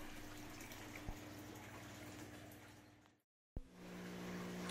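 Water runs steadily through the barrels of an aquarium sand filter system, a constant wash of flow broken by a brief dropout before resuming, with a faint knock near the start.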